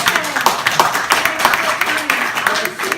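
Audience applause for Michael Moreau after a reading and writing talk, a patter of scattered claps from a modest crowd that keeps up throughout at moderate loudness.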